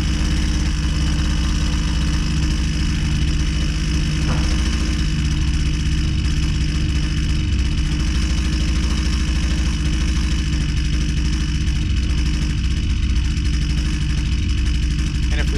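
Husqvarna 122C string trimmer engine running steadily near peak RPM of about 3,000 during carburetor adjustment, a loud, continuous close-up drone that never lets up.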